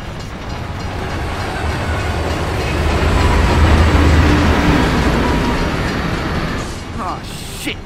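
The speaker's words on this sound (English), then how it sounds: "it's a bloody train coming the other way!" A train in the Gears of War 3 video game rumbles past, loud and sustained, its heavy rolling roar swelling through the middle and easing off, with mechanical rattling on top.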